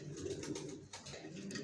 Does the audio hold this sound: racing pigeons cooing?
yes